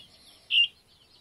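A single short, high chirp from a two-week-old guinea fowl keet cuts through near silence.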